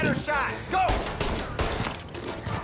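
A burst of rapid gunfire from the game Mafia: Definitive Edition crackles loudly, with quick shots overlapping a voice.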